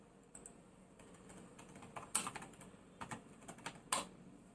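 Keys are tapped on a computer keyboard in a quiet indoor room, scattered clicks coming in small irregular bursts with brief pauses between them, close and fairly soft, with no voice.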